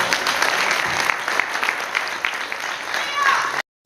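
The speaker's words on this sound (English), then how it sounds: "Can we give the praise team a round of applause?" A church congregation at Peace Chapel applauds the praise team, a dense, steady wash of clapping from a crowd with voices mixed in, fairly loud before it cuts off abruptly.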